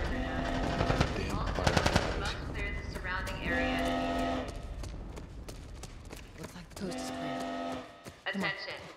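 Rapid automatic gunfire rings out in a firefight in The Last of Us on PC, loud and close in repeated bursts, with shouted voices and hurried movement between volleys.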